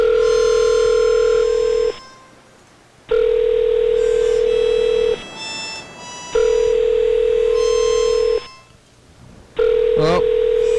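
A Skype call rings out as a loud repeating electronic ring tone in long even bursts with short gaps between, close and clear, with faint talk in the pauses.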